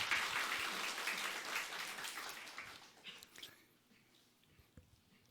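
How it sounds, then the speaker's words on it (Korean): A church congregation claps at Sunday worship to encourage the choir accompanist, a fairly faint burst of applause that fades out over several seconds, leaving a quiet room with a few stray sounds. "우리 격려의 박수를 한번 쳐주시죠."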